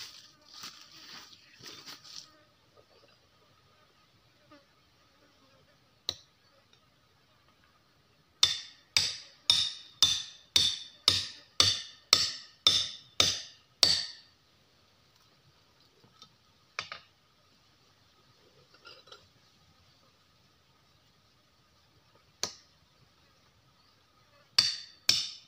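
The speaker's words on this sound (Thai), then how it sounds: "ไปลุ้นกันนะครับขอตอกถอยก่อนครับ" Pegs are hammered into a tree in a deep forest to climb up to a giant honeybee nest. A rapid run of about ten sharp, ringing strikes is followed by a few isolated knocks, all in quiet surroundings.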